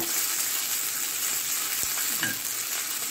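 Coriander leaves and onion fry in ghee, a steady close sizzle with a couple of brief stirring scrapes partway through, no voices.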